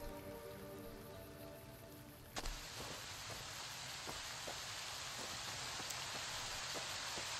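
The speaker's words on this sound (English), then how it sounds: "Please tell me that's not radiation rain." Rain in the video game Fallout New Vegas, a steady hiss of drops striking surfaces that swells suddenly after a couple of seconds and keeps falling evenly with scattered louder pattering hits.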